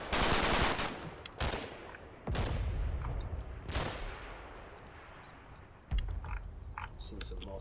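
Sten submachine gun firing in the Combat Mission war game, several sharp bursts and single reports at close range, spaced apart with quieter ambient battle noise between them.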